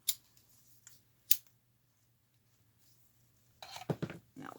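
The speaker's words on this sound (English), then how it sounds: "That one's just a wee bit too long. Let's trim that." Scissors snip fabric for a stuffed panda toy's dress in a few sharp, isolated cuts close by, with quiet gaps between them and a burst of rustling handling toward the end.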